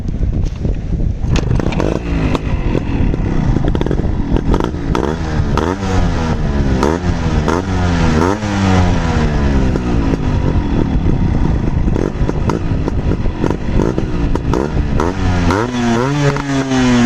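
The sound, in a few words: Yamaha RXG motorcycle engine while riding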